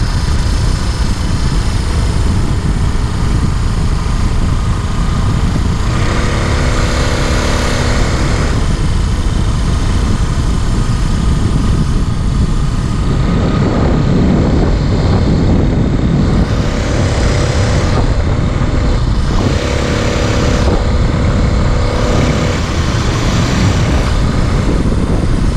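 A motorized fat-tire beach cruiser bicycle engine runs on choke on a beach, giving a loud, steady droning buzz that holds unbroken for the whole stretch with slight shifts in tone.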